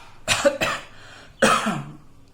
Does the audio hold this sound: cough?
yes